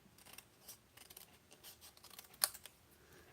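Scissors cut through a paper card with soft, quiet crunching strokes and one sharp snip near the end, close by with no voices.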